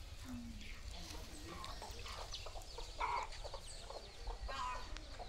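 Hens and a rooster cluck in short, scattered bursts, faint and somewhat distant, with people talking quietly in the background.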